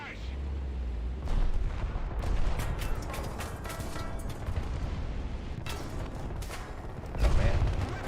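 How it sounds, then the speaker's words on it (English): An artillery barrage in War Thunder, with dense continuous rumbling blasts and crackling impacts throughout, swelling louder near the start and the end. "under artillery barrage"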